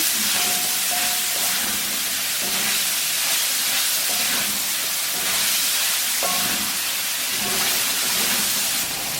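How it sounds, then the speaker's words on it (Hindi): Prawn noodles with capsicum and green onion stir-fried on high heat, giving a loud continuous hiss and sizzle throughout with faint clinks and tosses from the pan, no voices. "तेज आंच पे इसको आपने जल्दी इसको स्टर करना है।"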